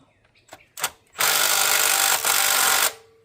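A power tool runs bolts back in on a 1995 Chevrolet Caprice Classic, with a couple of short blips followed by a sustained loud whirring run of nearly two seconds, close by.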